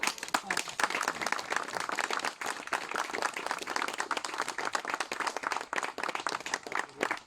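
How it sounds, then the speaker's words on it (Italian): Dense, close applause from a small crowd for a music school at a church gathering, many hands clapping in a steady rapid patter throughout. "Un applauso per loro."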